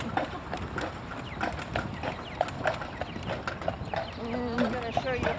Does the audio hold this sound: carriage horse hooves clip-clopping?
yes